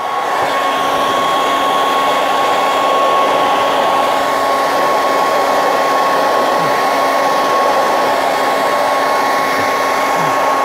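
A heat gun heats a resin cape near the shoulder to make it bendable, giving a steady, loud, close blowing whir with a faint constant whine that runs unbroken throughout, with no talking.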